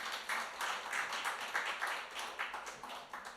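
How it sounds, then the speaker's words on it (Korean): A church congregation claps for a visiting singer during Sunday worship, a faint, fairly brisk, rhythmic patter of hands that stays steady throughout. "박수 한번 보내주십시오"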